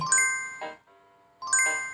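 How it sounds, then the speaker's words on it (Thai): A bright video game bell jingles twice, each a crisp tinkling chime with a ringing tail, separated by a short pause. "แล้วก็กระดิ่ง"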